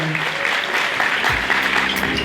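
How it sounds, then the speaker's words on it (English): A crowd at an awards event applauds an honoree, a steady wash of clapping throughout with a voice briefly heard beneath it. "One more round of applause for Lorraine Clader"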